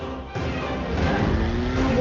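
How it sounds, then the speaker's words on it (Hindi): A bank van speeds along a road, its engine surging in abruptly and holding a loud, continuous roar with rising pitch as it approaches. "सिटी बैंक की वैन बड़ी तेजी से रोड पर बढ़ती चली आ रही है।"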